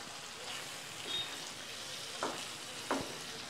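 A few curry leaves go into a pan of sizzling chicken masala gravy, which gives a soft, steady frying hiss broken by two or three short sharp crackles and clinks.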